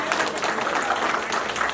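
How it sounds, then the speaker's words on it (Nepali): Audience applause at a 100th birthday celebration held in a temple courtyard, a dense burst of clapping close by, loud and unbroken for its short span. "जम ताली बजाइदिने एकचोटि।"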